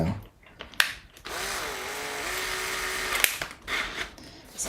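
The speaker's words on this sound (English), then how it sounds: "I might just see if I can smooth that out a bit with the step drill." Step drill grinding to smooth a hole in the body of a Fender Jazz Bass, a steady high whining bite lasting about two seconds, framed by brief clicks and handling noises, close and alone.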